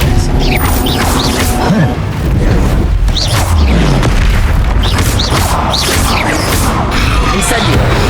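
Spell-casting combat in the video game Hogwarts Legacy, with a disarming Expelliarmus charm among loud, dense magical blasts and booming impacts. These continue throughout, with a crashing, thudding character and swirling effects layered on top.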